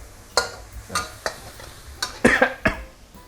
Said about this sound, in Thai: พอพริกเริ่มฉุนเริ่มหอมนะครับ แล้วก็เติมน้ำลงไปนิดหน่อยนะครับ